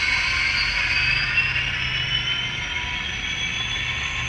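An On Track Models class 82 DCC sound model electric locomotive moving under throttle, a steady droning motor and traction hum with a high whine held evenly throughout, with no speech.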